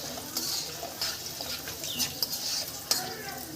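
A tomato pickle mixture fries in a pan, with a steady soft sizzle under repeated scraping stirs and occasional clinks of the spoon against the pot.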